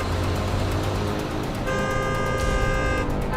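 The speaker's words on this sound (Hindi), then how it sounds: "क्या चाचा, कब से हॉर्न बजा रहा है?" A car horn honks steadily and loudly over rumbling road traffic and engine noise on a rough road.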